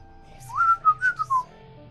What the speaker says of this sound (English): Everett whistled again, a different pattern this time, more agitated.